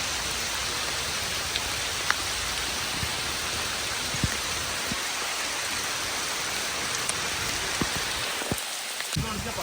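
Heavy rain pours down in a steady, dense hiss that holds at an even loudness throughout, with occasional sharper drips and taps.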